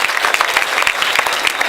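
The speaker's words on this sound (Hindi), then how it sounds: "जोरदार तालियां दीजिए इसके लिए।" An audience at a school laughter competition applauds, a dense burst of clapping close and loud for its full short length.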